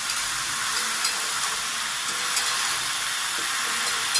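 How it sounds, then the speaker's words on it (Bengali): Bottle gourd with salt and turmeric sizzles steadily in a pan, a bright continuous hiss with a few light stirring knocks. "হলুদ আর লবণটা দিয়ে সুন্দর করে নেড়ে চেড়ে দেবো"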